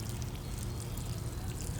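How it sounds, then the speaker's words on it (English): Water pours into planting holes dug in already moist garden soil ahead of transplanting lettuce and kale seedlings, a steady close splashing trickle with no talking. "I am going to put some water in each hole"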